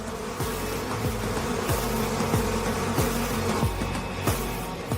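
A dense, steady swarm of bees buzzing loudly and close, with overlapping drones and individual insects swooping past throughout.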